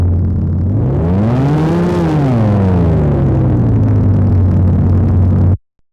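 A synthesized engine drone rises in pitch as if revving, then slowly falls back to a steady low hum before cutting off sharply.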